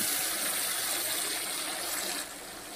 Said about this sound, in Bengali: এই পর্যায়ে আমি সামান্য একটু জল অ্যাড করব